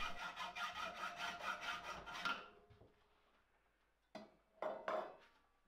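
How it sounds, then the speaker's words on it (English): A hacksaw cuts through metal strapping clamped in a vise, giving about two seconds of steady rasping back-and-forth strokes. A quiet pause follows, then three short, sharp scraping strokes. "I can get it clamped in the vise and cut it down to size with the hacksaw"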